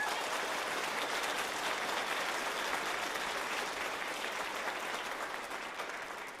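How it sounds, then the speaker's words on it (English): A children's chorus concert audience applauds a young chorus member with steady, dense clapping that holds at an even level for several seconds before easing slightly toward the end. "So this is Jane. Give her a round of applause."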